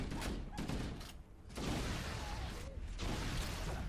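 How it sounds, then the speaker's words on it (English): Explosions in the video game Halo: MCC go off as a dense, loud run of booming blasts and gunfire-like bursts, with a short lull near the middle before the barrage resumes. "these explosions are great, even though they're delayed and all"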